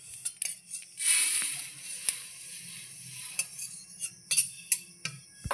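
Fried spices for mango pickle being poured and scraped onto a plate, with scattered light metallic taps and clicks and a brief rustling pour, close and quiet.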